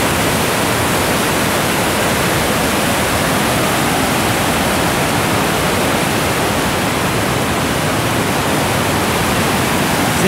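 Cachoeira da Chave in Votorantim, a waterfall fed by water released from reservoir floodgates, pours in a loud, steady, unbroken rush with no voices present.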